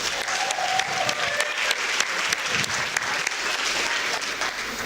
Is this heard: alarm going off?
no